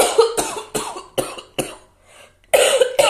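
A series of harsh, repeated coughs from someone sick with Covid and pneumonia, close to the microphone, coming in quick bursts with a short pause before a final pair.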